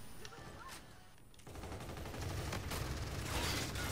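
Video game gunfire in a Cranked match, rapid bursts of shots building into a dense, loud rattle of continuous fire, with a voice briefly speaking early on.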